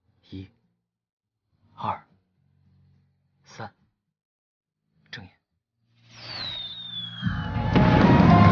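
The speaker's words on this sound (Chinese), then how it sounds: "这是特意为你定制的烟花" Fireworks in the night sky at a romantic proposal: a few sparse, isolated pops, then a whistling rocket rising into a sustained rumbling, crackling burst that grows louder toward the end.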